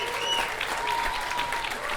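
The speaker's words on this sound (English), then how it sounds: "Round of applause for yourself" A sold-out comedy club audience bursts into dense, continuous applause, many hands clapping close and loud, with faint crowd murmur and a few whoops mixed in.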